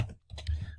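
Fingers typing on a computer keyboard, a short quick run of soft, close key clicks.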